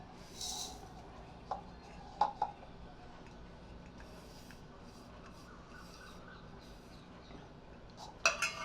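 Cooled chilli mixture for a chilli pickle is scraped and spooned from a plate into a mixer jar: faint, sparse clinks and rubbing scrapes in a quiet kitchen, with a few sharper metallic taps near the start and end.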